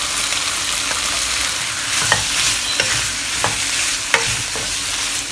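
Prawns and squid stir-frying in a hot pan, a dense, loud, close sizzle running steadily throughout, broken by a few sharp clicks and scrapes of a spatula, with no talking.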